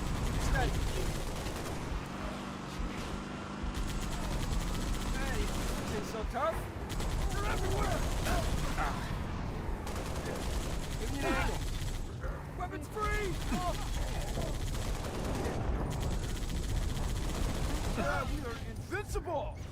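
Turret gunfire in the video game Halo: Reach, rapid bursts of shots running continuously and loudly through the whole stretch, mixed with game effects and voices talking over it.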